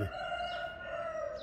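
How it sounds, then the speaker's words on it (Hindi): A rooster crows once in a long, loud, sustained call that fills the moment, with no talking. "ए मुर्गे की आवाज़ सुनी ती"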